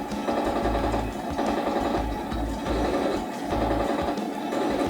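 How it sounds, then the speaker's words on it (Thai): A Heng Long remote-control toy tank's machine-gun effect gives off a steady mechanical rattling buzz, close and continuous, with a low rhythmic pulsing underneath. "อ่ะเรามาดู ปืนกล ที่1 ปืนกลตัวที่2ครับ"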